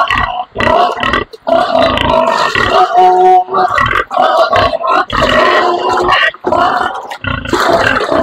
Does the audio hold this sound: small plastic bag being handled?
no